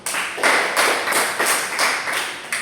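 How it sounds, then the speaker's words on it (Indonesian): A school class at SMP Negeri 3 Selaru claps after a group economics presentation, a dense burst of applause pulsing in rhythmic waves, loud and close, with no talking. "Kita berikan aplaus dulu"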